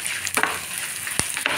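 Asafoetida frying in hot oil for a tempering, a steady sizzle with a few sharp spoon taps and stirring clicks against the pan, close and moderately loud.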